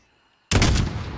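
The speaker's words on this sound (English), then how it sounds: "They're shooting. What the fuck are they shooting at?" Gunfire in Warzone breaking out suddenly after silence, a loud, close burst of rapid shots that fades over the following moment.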